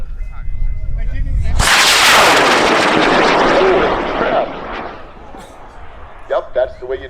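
A Wildman Punisher model rocket on a high-power motor ignites with a sudden loud ripping roar that fades over a few seconds as it climbs away, then a few brief voices follow.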